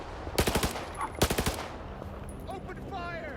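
Gunfire in the video game S.T.A.L.K.E.R. 2: Heart of Chornobyl, two loud close rapid bursts of automatic fire, followed by quieter game sounds and faint voices.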